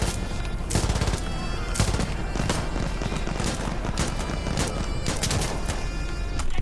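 Rapid gunfire in the video game Insurgency Sandstorm, a dense run of sharp, loud shots in quick bursts, close and continuous for the whole stretch, with a few stronger cracks standing out.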